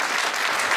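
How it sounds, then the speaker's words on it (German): Audience applause at a magic show, a steady burst of clapping filling the whole moment, fairly loud and close with no talk over it. "Ein Applaus."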